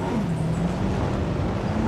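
A ranger team vehicle drives through a dinosaur park in Jurassic World Evolution, a steady engine drone with a slowly shifting low hum, close and continuous, with no talk over it.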